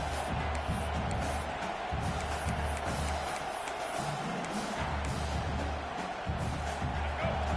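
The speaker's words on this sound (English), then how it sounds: "It's early, but this crowd is fired up. Listen to this noise here." A dense crowd fills a college football stadium with steady loud roaring and cheering that swells and dips, while a voice talks over it.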